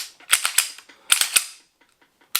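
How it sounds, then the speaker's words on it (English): Sharp mechanical clicks from a pistol trigger being pulled on a Glock 43X or CZ P10M handgun, close and crisp, in two quick clusters of snaps followed by a lone click after a pause. "So it has a very heavy trigger in it."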